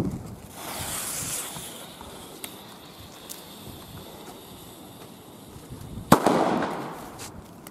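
Leftover fireworks and firecrackers set off in daytime on a windy day, with a faint crackle early on, then a sharp bang near the end followed by crackling, all under wind noise.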